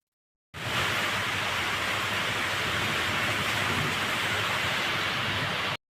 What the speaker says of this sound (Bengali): বাইরে এত বৃষ্টি হচ্ছে, বৃষ্টিটা থামলেই আমরা বেরিয়ে যাব।